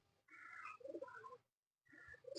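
A pigeon coos softly from close by on a small poultry farm, two short throaty phrases separated by a brief pause.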